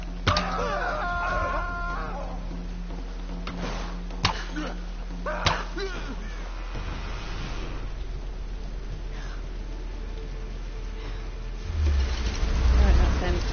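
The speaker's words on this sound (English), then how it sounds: "No, I'm not going to run around and chase a chicken." A chicken clucks and crows in the Tomb Raider video game, the bird calls mixed with game ambience and other effects at moderate loudness, with a loud rumbling thump near the end.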